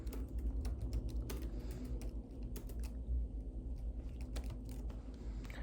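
Keystrokes on a computer keyboard as a search for a tax form is typed, a steady run of quick clicks over a low background rumble, with no talking.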